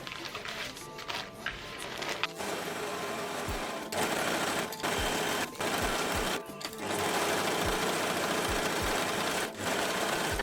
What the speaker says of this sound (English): I'm gonna overlock everything here.